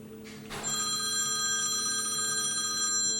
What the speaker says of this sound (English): phone ringing in the middle of the Jeffree Star video